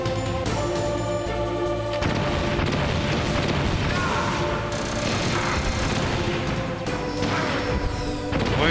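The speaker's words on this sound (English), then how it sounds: "Okay, yeah, fire the missiles." Missiles launching and exploding in Metal Gear Solid, a string of heavy booms and crashes layered with game effects, loud and dense throughout.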